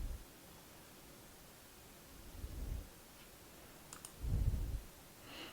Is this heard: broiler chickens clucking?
no